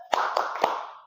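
A classroom of pupils claps three quick rhythmic beats of a focus clap in unison, each clap crisp and close with a short ring-out after it.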